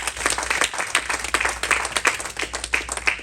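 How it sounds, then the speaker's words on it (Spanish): Church congregation applauding the Lord: dense, loud clapping from many hands, steady and close throughout with a faint murmur of voices beneath. "Vamos a dar un aplauso al Señor."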